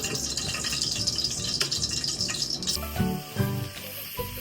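Shrimp hits hot oil in a frying pan, giving a steady, close crackling sizzle that carries on throughout, with a few clatters of handling partway through.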